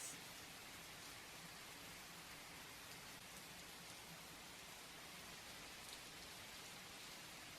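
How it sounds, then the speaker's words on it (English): Steady rain falls under thick-leaved trees in the game Twisted Tides, an even, dense hiss of drops filling the scene throughout, moderately quiet and without voices. "He moves under some thick-leaved trees, where the rain is more sparse, and lays down a blanket."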